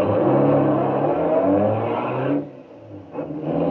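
Car engine revving and accelerating as the vehicle turns around, a radio-drama sound effect; a loud, sustained motor roar that drops away sharply near the end, then briefly rises again.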